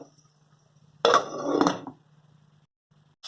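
A lid set onto a cooking pot while making chutney, one clattering metallic clink followed by a second rattle as it settles, close and clear in a quiet kitchen.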